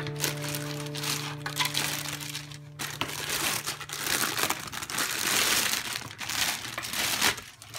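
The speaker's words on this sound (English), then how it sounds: "Let me take out the plastic." Plastic packaging is pulled off a Youkoyi desk lamp, making steady crinkling and crunching close by for several seconds over a low electrical hum, with no talking.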